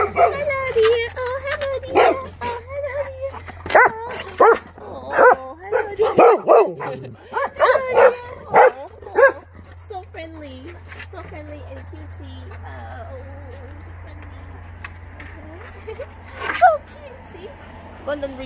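Golden retriever puppies at a house barking and yipping in bursts, close and loud at first, then trailing into softer whimpers and scattered yips with a person talking over them.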